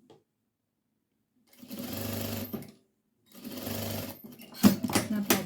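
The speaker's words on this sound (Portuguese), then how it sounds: "aqui a gente passa uma costura com o pé de máquina" A sewing machine stitching a seam on fabric for a baby cloth diaper, running in two steady whirring bursts separated by a pause, then a shorter rougher burst at the end, close and loud.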